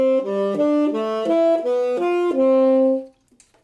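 Tenor saxophone plays a descending pattern of fourth intervals, paired legato notes stepping down in an even rhythm, ending on a sustained low note, clear and close with no talk.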